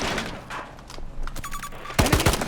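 Bursts of gunfire in the shooter Battlefield 2042 crack in quick clusters, with a louder, closer volley of heavy shots at the end over a background of distant battle noise.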